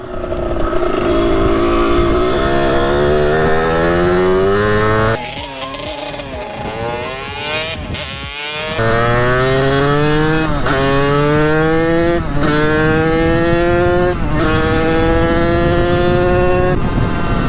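Kawasaki KX 80 dirt bike with a bald rear tire ridden on a road, its two-stroke engine revving and rising in pitch through the gears, a brief drop around mid-clip, then climbing again, loud and close.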